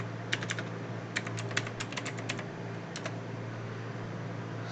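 Keystrokes on a computer keyboard as a command is typed, coming in a few quick bursts of sharp clicks over a steady background hum, fairly faint and close.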